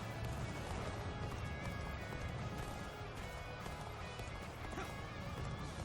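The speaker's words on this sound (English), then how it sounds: "Oh no, get back on the horse." Horse hooves galloping in the video game Dynasty Warriors Origins, a steady, muffled clatter of hoofbeats buried in a dense, roaring battlefield mix, fairly quiet overall.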